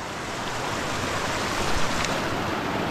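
A mountain river on the Tour du Mont Blanc rushes loud and steady close by, a dense unbroken roar of flowing water with no voices.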